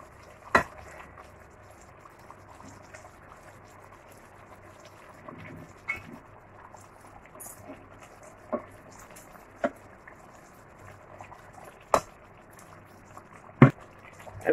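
Brownspotted grouper (hamour) frying gently in a pan with tomato paste, a steady low sizzle and bubbling broken by several sharp clinks and taps at irregular intervals, with no talk.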